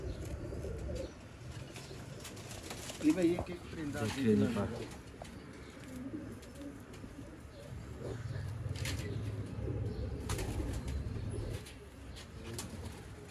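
Teddy pigeons, prized fancy birds, coo in low repeated rumbles near the microphone, with a brief burst of flapping wings partway through and someone talking at times.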